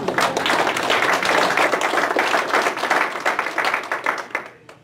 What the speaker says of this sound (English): that's a perfect time for y'all to put your little hand together and applaud